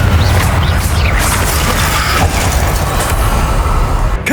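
Confringo fire-blast spell in Hogwarts Legacy combat: a dense, continuous burst of booming, crackling impacts, loud and close, with no talk.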